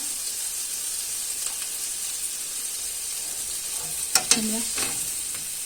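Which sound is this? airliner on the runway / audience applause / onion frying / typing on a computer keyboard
onion frying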